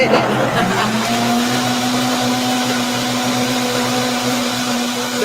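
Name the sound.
blender making smoothie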